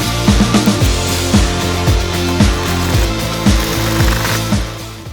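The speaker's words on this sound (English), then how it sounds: "Gotta get some heavier duty sanding going on." Steady, loud power sander working over a toy treasure chest, with a continuous buzzing drone broken by rhythmic knocks and bumps as the tool moves across the surface.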